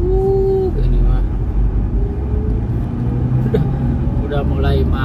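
Congested road traffic is heard from among the cars: a constant low engine rumble with a short tone near the start and brief clicks and knocks later, while a person talks throughout.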